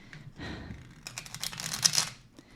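Tarot cards being shuffled by hand, a quick riffle of papery flutters and soft slaps building over about a second and a half, close and fairly quiet with no talk.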